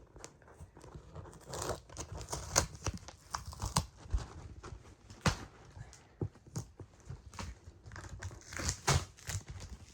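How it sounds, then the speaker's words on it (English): Cardboard packaging for a Reecom R-1650 being torn open, giving irregular ripping and crinkling bursts with sharp snaps at close range, fairly quiet and with no talk. "let's go ahead and rip this thing open"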